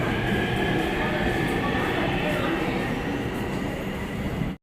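A Daegu Metro Line 1 subway train rumbles loud and steady at a station, a continuous roar of wheels and motors that cuts off abruptly at the end.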